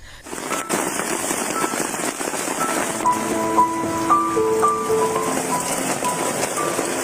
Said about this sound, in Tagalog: kasabay ng malakas na pag-ulan, ang pagbagsak din ng malalaking hailstone